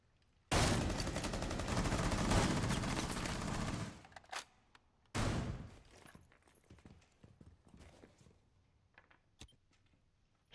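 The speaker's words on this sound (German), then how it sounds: "Schieß durch die Wand." Gunfire in Rainbow Six Siege aimed through a wall: a loud sustained burst of automatic fire, a pause, then a second shorter burst followed by scattered shots and faint clatter, with no voices.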